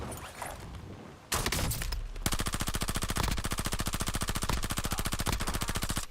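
Gunfire in Call of Duty Warzone: a few scattered shots give way to a long sustained automatic burst, rapid evenly spaced cracks rattling on for several seconds, loud and close.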